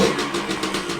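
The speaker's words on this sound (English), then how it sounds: "Seems to be idling okay." Suzuki TC125 motorcycle engine idling steadily after start-up, a close, continuous mid-pitched putter with a slight pulsing rhythm and no talk.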